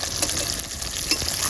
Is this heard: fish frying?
yes